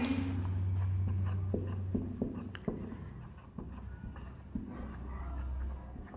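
A marker scratches a sentence onto a board during an English lesson, with a run of short, scratchy strokes and taps close by and a low hum underneath.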